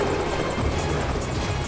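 Helicopter flying overhead in a crime drama scene, a steady, loud rotor drone with rhythmic beating, no talk.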